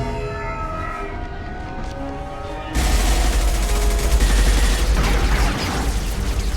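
Gunfire in the video game Mass Effect 2: a dense, loud barrage of shots breaks out abruptly and continues as a roaring fusillade, following a quieter stretch of tonal ambient hum.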